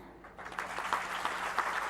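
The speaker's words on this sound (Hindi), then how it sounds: "तालियां तो बनती।" Audience applause fills a hall at a journalism festival in Indore, a steady broad clatter of many hands clapping that swells slightly and continues throughout without a break.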